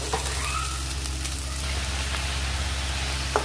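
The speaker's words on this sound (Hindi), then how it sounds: "अच्छी तरह से प्याज को भून लेंगे अब हम।" Onion paste fries in hot oil for a soya chaap curry, giving a steady, soft sizzle throughout with a faint scrape or two and no talk.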